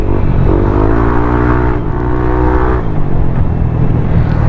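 A CVT motorcycle engine with 11–12 gram flyballs revving up under a light throttle, a loud close whine rising in pitch then easing back, with no talking.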